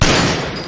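A single loud, close gunshot blast in Resident Evil Village, with a short ringing tail.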